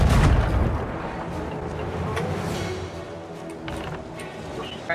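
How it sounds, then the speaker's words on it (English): Cannon fire at a ship in the pirate game Sea of Thieves: a heavy boom opens, followed by scattered thuds and impacts over a low rumble, fading as the clip goes on. "They're firing at us."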